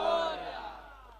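A crowd at a tournament prize ceremony roars back in a single loud, drawn-out shout that fades away within about a second.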